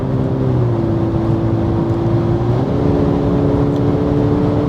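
Steady engine drone inside a 2024 Mercedes-Benz E-Class (W214) hybrid cruising at speed on the Autobahn, with a tone that rises slightly as it pulls harder, under constant road rumble.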